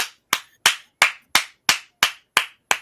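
Nine evenly spaced sharp claps, each snapping on with a short decay, in a steady rhythm that sounds like hands clapping or someone mimicking a neighbor's clapping heard through an apartment wall, clear and close with no talk.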